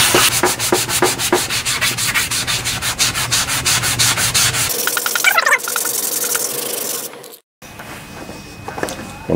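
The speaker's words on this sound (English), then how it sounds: "So I'm going to use a coarse grit sanding sponge on this." A coarse grit sanding sponge scrubs the grimy cover of an 8 HP Briggs and Stratton riding lawnmower engine, with rapid, loud, rhythmic rubbing strokes close by for about five seconds, then softer scraping and a brief silence.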